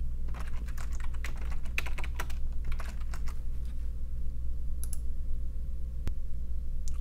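Registration details are typed on a computer keyboard in quick uneven bursts of close, crisp key clicks with short pauses between groups and no one talking.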